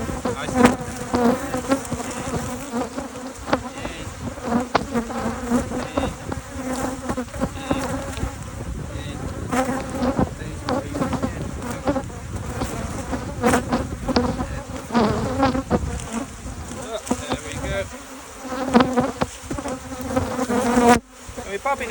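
Angry honey bee swarm during requeening of a colony, a dense continuous loud buzz close by, with rustling hive handling and occasional brief human sounds underneath.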